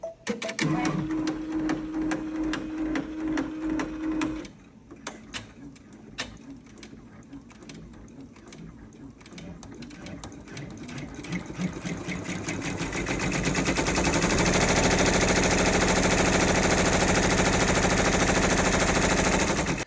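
A sewing machine stitches fabric pieces for a girly bag, whirring steadily in a fast, rattling needle rhythm. It slows briefly, then speeds up to a loud, continuous run at close range.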